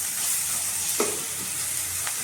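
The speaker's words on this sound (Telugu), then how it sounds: "ఉప్పు వేసుకుంటే వేగంగా ఉల్లిపాయలు వేగిపోతుంది" Sliced onions frying in a pan for egg curry, a steady close sizzle with a couple of scraping stirs of the spoon cutting through.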